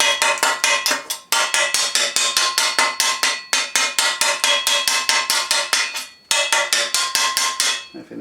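Rapid hammer blows ring out on a welded steel bash plate for a Triumph, struck in quick bursts of sharp metallic clangs with brief pauses between runs, loud and close with no talking.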